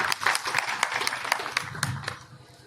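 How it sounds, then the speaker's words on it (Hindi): Audience at a Siwan RJD district political rally clapping for the stage host: scattered, moderately distant applause with sharp individual claps spread over a few seconds, faint crowd murmur beneath. "एक जोरदार ताली बजा दीजिए"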